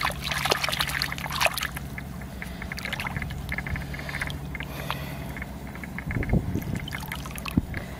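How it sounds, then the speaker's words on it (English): Water trickles and splashes as mud is rinsed off a megalodon fossil at a muddy outdoor dig site, steady close-up sloshing with a few louder splashes near the end. "See if I can't rinse it off a little bit."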